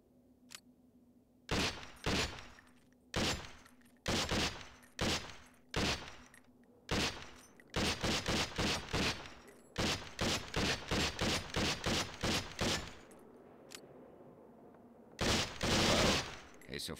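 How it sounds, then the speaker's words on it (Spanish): Rapid bursts of M4 rifle gunfire at a shooting range in the video game SWAT 4 crack repeatedly, single shots and quick strings of automatic fire, loud and close with brief pauses between volleys. "La M4 dispara en modo automático o semiautomático"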